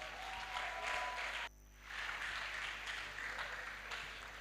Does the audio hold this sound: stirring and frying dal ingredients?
no